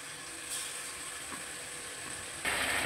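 Pieces of fish frying in oil in a covered pan for a fish curry, giving a steady, soft sizzle throughout that grows brighter and louder near the end.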